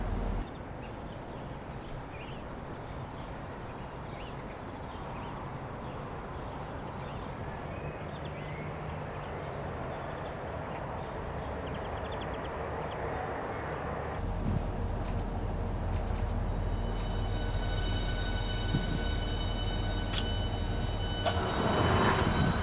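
A train in Train Simulator 2015 on the London St Pancras to Faversham route braking toward a stop, heard as a steady low rumble and rolling drone that swells slightly, then brightens with high squealing brake tones near the end.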